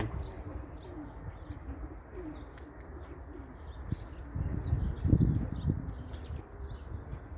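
Pigeon chick in a loft with soft low cooing and faint chirps and rustling, a brief louder flutter near the end, and no talk.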